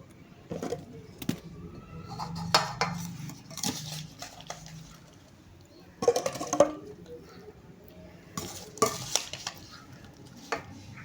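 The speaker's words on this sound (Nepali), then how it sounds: "अब मैले डब्बामा भर्दैछु अचार।" Green chilli pickle (akhbare khursani) is spooned into a container, giving scattered soft scrapes, wet stirring sounds and sharp spoon taps against the jar, close by with no talking.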